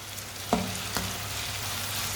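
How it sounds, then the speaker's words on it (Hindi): Chopped tomato and finely cut green chillies fry over raised heat in a pan for masala bhindi, giving a soft, steady sizzle with two brief stirring clatters near the start. "टमाटर को थोड़ा सा पका लेंगे"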